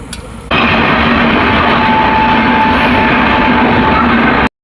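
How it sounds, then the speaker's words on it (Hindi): A train passing a railway level crossing, a sudden loud continuous rumbling roar of wheels and carriages close by that holds steady before cutting off abruptly. "चलो भाई फिलहाल सामने से ट्रेन भी आ चुका"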